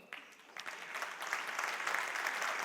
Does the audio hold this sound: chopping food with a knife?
no